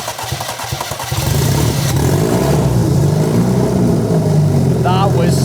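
A Rover 25 engine, freshly rebuilt and running with no exhaust system, cranks briefly and then catches into a loud, rough, throaty idle close by, with a voice briefly heard near the end.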